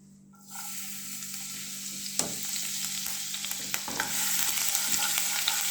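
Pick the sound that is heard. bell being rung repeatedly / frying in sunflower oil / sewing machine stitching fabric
frying in sunflower oil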